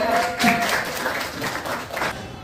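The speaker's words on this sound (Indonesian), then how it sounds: "Beri tepuk tangan" A class of students claps for classmates during a civics lesson, a brief, moderately loud patter of hands with a faint voice mixed in.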